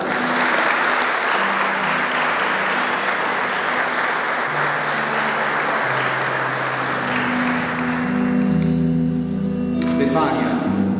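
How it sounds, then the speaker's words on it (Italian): Wedding guests in a church giving loud, sustained applause for the couple. The clapping stays thick and steady throughout, with sustained musical tones entering near the end. "Facciamo un applauso."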